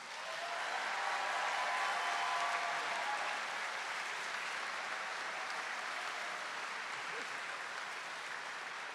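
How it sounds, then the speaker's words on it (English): Sustained applause from a large arena audience for graduates at a medical school hooding ceremony, a steady dense wash of clapping held at even loudness throughout. "let's give all the graduates one more round of applause"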